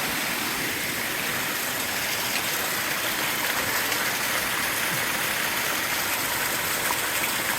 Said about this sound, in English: They call this a gushing stream.